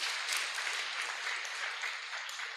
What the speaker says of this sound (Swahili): Pigieni Bwana Yesu makofi